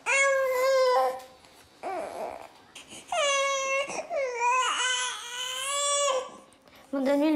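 A baby cries in a hospital setting, with loud wailing bursts broken by short breaths and softer whimpers, close by and with no other voices.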